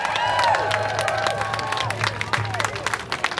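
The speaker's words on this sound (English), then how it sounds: "give yourselves a round of applause" A crowd at a No Kings protest in Shoreline, Washington, bursts into sustained applause and cheering, with dense clapping and scattered shouts close by, steady for a few seconds before thinning slightly.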